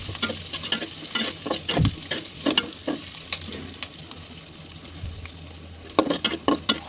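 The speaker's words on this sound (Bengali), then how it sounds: "এগুলো আমি লেড়ে ছেড়ে একটু বেঁধে নেব। পেঁয়াজগুলো নরম হয়ে আসছে এখন।" Onions fried in a pan and stirred with a spatula for cooking taro greens, a soft continuous sizzle broken by repeated scraping strokes, close up, with a cluster of quicker scrapes toward the end.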